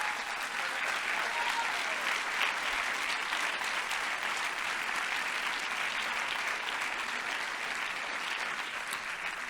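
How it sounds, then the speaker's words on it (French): Audience at a film festival opening ceremony applauds steadily and loudly for nearly ten seconds, a dense sustained wash of clapping with no talk over it. "J'aimerais qu'on applaudisse énormément, très fort, Edna Applebaum"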